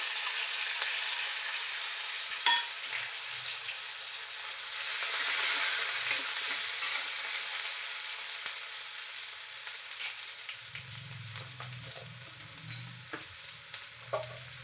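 Garlic, curry leaves and chilli frying in a cumin tempering, a continuous bright sizzle that swells midway, with light stirring clicks and a soft low hum toward the end, no voices.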